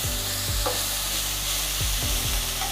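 Ingredients sizzle steadily as they are sautéed in a pan, with a few sharp scraping stirs standing out over the continuous loud frying noise, no voices.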